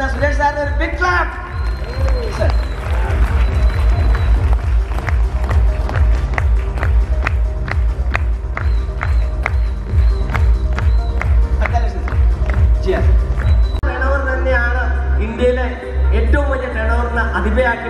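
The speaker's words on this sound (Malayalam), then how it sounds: "ഒരു ബിഗ് ക്ലാപ്പ്" An audience claps at the RCM South Indian Celebration 2023 event, with steady rhythmic applause and crowd noise under loud amplified sound; the texture shifts near the end.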